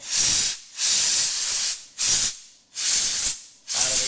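Compressed air blows off a cleaned part from a 2020 KTM 350 EXC-F during an oil change, in five sharp, loud hissing bursts with short silent gaps between them.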